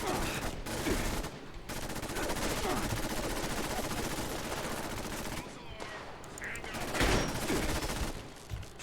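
Dense gunfire in the video game Fallout 76, with bursts of rapid shots and fusillades filling most of the stretch. A brief lull comes midway, then the shooting swells again.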